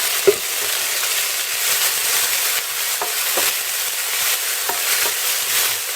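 Spaghetti aglio e olio sizzles steadily in a frying pan as parsley goes in, with a broad, even hiss, a few soft stirring knocks and a small clack near the start, no voices.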